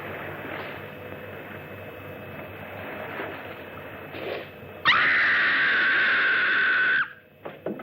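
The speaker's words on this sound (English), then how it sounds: "That was a scream." In the horror film Horrors of Spider Island, a single long scream rises out of a steady background hiss and holds loud and level for about two seconds before it breaks off.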